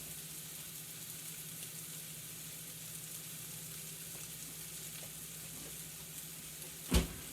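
Shrimp being lightly sweated in a pan for paella give a soft, steady sizzle throughout, ending in a single brief clatter near the end.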